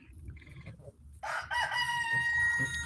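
An American Buff hen, a purebred show-quality bird, crows with a loud, close call after a few softer clucks, with a long drawn-out crow filling the second half.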